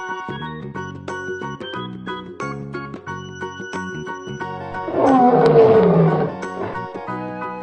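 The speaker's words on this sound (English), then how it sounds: "Lion." A lion roars loudly in one sustained burst over a continuous backdrop of bright children's music with tinkling tones.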